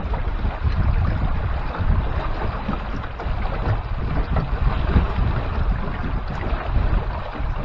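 A trimaran sails easily on Lake Erie in summer, with a steady rush of wind and water against the hulls and heavy buffeting of wind on the microphone, continuous and close with no speech.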